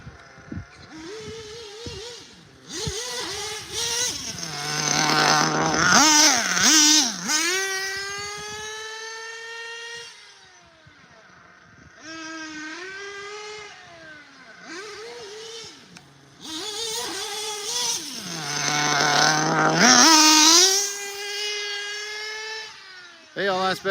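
Small nitro engine of an STS 21T RC car revving during break-in, buzzing up and down in pitch in repeated high-revving bursts with idle dips between, under occasional talk.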